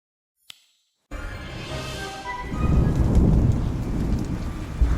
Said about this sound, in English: The lightning strikes ahead are becoming more frequent.